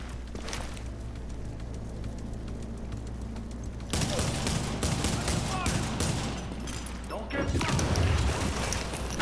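Dense gunfire rattles through a firefight in the video game Tom Clancy's The Division, rapid automatic bursts and crashing impacts, loud and continuous, with a heavier blast near the end.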